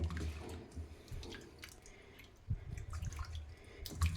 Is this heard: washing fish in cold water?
yes